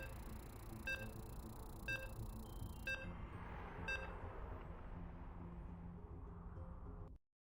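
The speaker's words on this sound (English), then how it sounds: "As you can hear, the beeps are loading into that third game." During StarCraft II game loading, four evenly spaced electronic beeps sound about a second apart over a steady background hum before everything cuts to silence.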